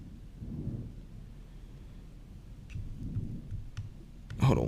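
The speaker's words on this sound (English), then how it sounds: "Thunder's getting louder here." Thunder rumbling during severe storm weather in West Tennessee, low rolling booms rising and fading in a few swells, with a sharper crack near the end and faint rain noise beneath.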